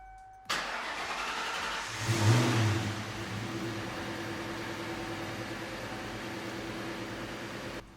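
A car engine fires abruptly after a NOCO AX65 jump start, revs briefly, then holds a steady, close idle until it cuts off.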